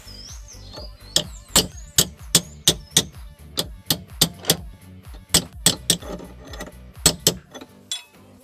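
A hammer repeatedly strikes a size 22 wrench to drive in a steering column retaining pin on a car, giving a steady series of sharp metallic clanks, close and ringing, about two per second.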